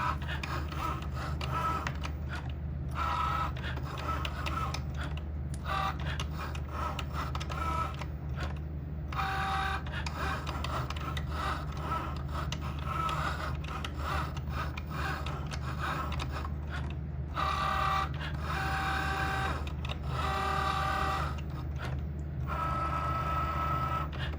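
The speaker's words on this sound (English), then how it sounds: "we're gonna come back over to the machine, and now it's going to cut" A Cricut Joy cutting machine runs a fine point blade through a cut, giving a steady, continuous mechanical whir and rasp with shifting tones throughout, close and alone.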